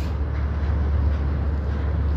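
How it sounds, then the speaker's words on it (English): Low, steady rumble of a long freight train moving very slowly past, a continuous deep drone with faint rolling texture and no talk. "This train is moving so slow, bro."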